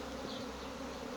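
A swarm of bees drones steadily all around, a continuous, dense, fairly quiet hum with no voices.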